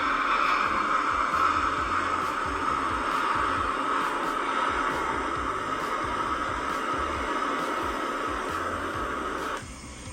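Steady wind sound effect played in a children's sound-guessing game: a broad, even whooshing rush with faint hum that holds at the same level for about nine seconds, then drops off suddenly near the end.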